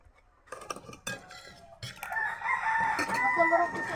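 A rooster crows loudly and close by, its drawn-out call rising over scattered clucks and background voices.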